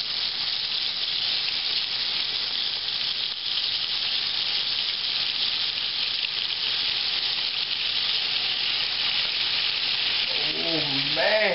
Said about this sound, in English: Here they go in. I'm going to brown these off. Sear them on both sides.